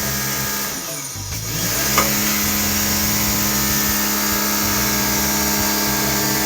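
A Bosch pressure washer sprays water onto the ground outdoors, its motor droning steadily and loudly throughout with a continuous hiss of spray; a brief dip in level early on before the full, even roar resumes.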